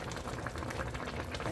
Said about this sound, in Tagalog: Ilagay ko na rin itong patis na ito kasi konti na lang.